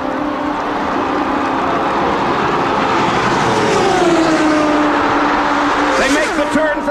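IndyCar race cars at speed on the backstretch during the 1992 Indy 500, a loud sustained engine roar with pitch sweeping as the cars pass, and a second car rising near the end, heard under a commentator's voice.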